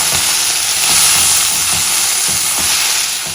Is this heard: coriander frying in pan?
yes